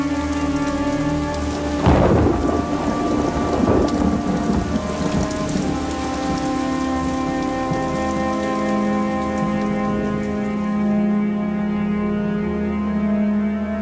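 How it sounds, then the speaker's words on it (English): Heavy rain pours steadily through a thunderstorm, with a loud rolling thunderclap about two seconds in that rumbles and fades over several seconds while the downpour keeps hissing beneath a sustained musical drone. "After the fires had burned for 3 days, the rain came."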